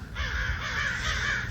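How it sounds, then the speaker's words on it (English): Crows caw outside a window early in the morning, a loud, continuous raspy chorus that fills the clip with no talking. "I don't know if these are crows."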